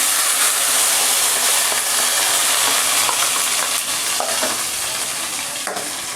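Mustard seeds and spice paste frying in hot oil in a pan, a loud, steady close sizzle with crackles and stirring scrapes throughout, no talking.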